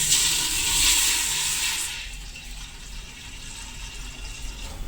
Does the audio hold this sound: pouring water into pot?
yes